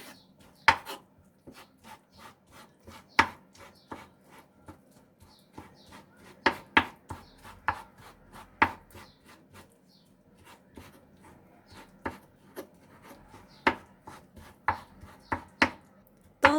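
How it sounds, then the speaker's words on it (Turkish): Knife chopping eggplant on a cutting board, a steady series of sharp, close taps in irregular bursts with short pauses, no voices. "Patlıcanlarımızı bu şekilde küçük küçük doğruyoruz."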